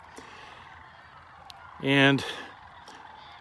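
Sandhill cranes migrating in Indiana call as a flock flies overhead: a single loud rolling, trumpeting bugle rises briefly above a quiet outdoor background, with a few faint distant calls around it.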